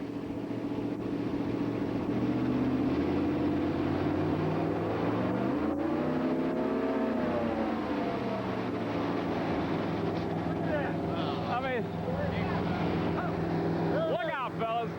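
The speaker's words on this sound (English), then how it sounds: "You're going to rev it up now." A car engine treated with Prolong revs up in a 1997 engine durability demonstration, a loud sustained roar with rising and falling pitch that swells mid-clip, with voices and crowd reactions over it.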